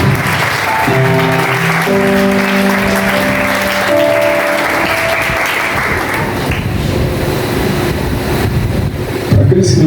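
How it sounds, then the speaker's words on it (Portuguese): A church congregation claps loudly and continuously, a dense wash of applause with sustained tones running beneath it through the first half, then thinning slightly toward the end. "dê a sua melhor salva de palmas para Jesus"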